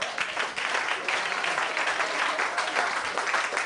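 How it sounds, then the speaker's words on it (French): A comedy club audience in La Réunion claps in steady, dense applause for several seconds, the clapping even and moderately loud throughout. "Applaudis, monsieur, s'il vous plaît."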